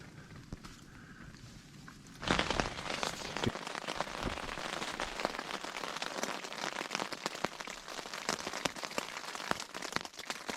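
Light spring rain begins falling at a backpacking campsite, starting about two seconds in as a sudden steady patter of drops on a nearby surface, with scattered louder taps. Nobody talks.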